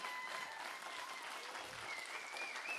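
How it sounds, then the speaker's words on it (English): Audience applause for sailor Jérémie Beyou on the third-place podium at the New York Vendée 2024 finish, a steady, fairly faint wash of clapping held evenly throughout with no voices. "vous pouvez encore l'applaudir mesdames,"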